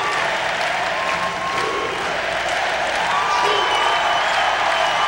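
Arena crowd roaring and applauding at the 1998 Calder Cup hockey championship won by the Philadelphia Phantoms, a dense, loud, continuous wash of cheering and clapping that swells slightly toward the end.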